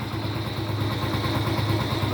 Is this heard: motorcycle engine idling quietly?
yes